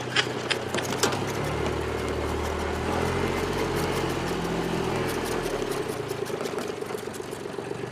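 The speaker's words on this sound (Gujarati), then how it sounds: "આવ્યો તો ખરો ટ્રેક્ટર લઈ લે." A tractor engine runs nearby with a steady, fairly loud, low mechanical drone and rattle that holds even throughout, with no voices.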